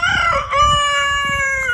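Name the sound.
local chickens crowing and clucking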